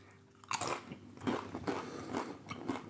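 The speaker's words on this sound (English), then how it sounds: "I'm going to leave the crunchy noises in." Close-up, fairly quiet crunching of Walkers Max Strong Hot Sauce Blaze crisps: a sharp first bite followed by several brittle chews in an irregular rhythm, without speech.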